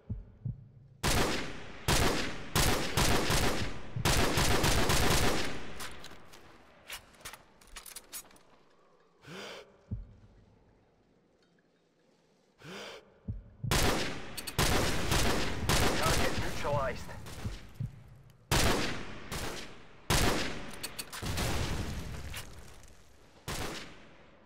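Loud gunfire in the Modern Warfare video game comes in dense automatic bursts and rapid volleys, split by brief quiet gaps, with occasional voices between the shooting.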